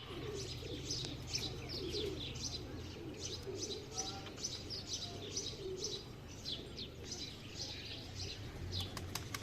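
Pigeons at a rural farmstead coo steadily in repeated soft calls, with chirps and occasional wing flaps, close and continuous throughout.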